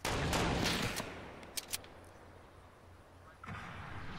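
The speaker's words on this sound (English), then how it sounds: "There's another one somewhere who's shooting at me." Gunfire in Fortnite: a heavy volley of shots at the outset, two isolated sharp cracks shortly after, then another burst starting near the end, with quieter ambience between.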